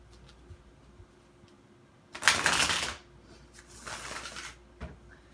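Two bursts of tarot card shuffling, close and brisk, with quiet pauses and a soft tap between them.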